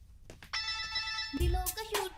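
A phone rings with a bright electronic tone, steady and close, while a voice speaks over it.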